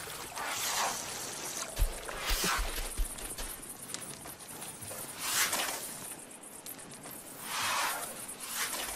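Desert elephants drink at a water source, with trickling, splashing water and occasional soft thuds repeating in slow waves at moderate distance.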